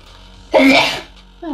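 A single loud sneeze bursts out after a quiet moment, followed by a faint voice starting to speak.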